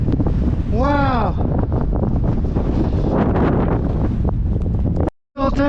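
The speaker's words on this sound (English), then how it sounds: "It's still quite windy." Strong wind on a mountain in North Wales buffets the microphone with loud, continuous roaring gusts, a brief whistling tone near the start and a sudden dropout near the end.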